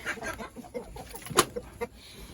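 Chickens at feeding time give soft, scattered clucks close by, with one sharper squawk near the middle, all fairly quiet.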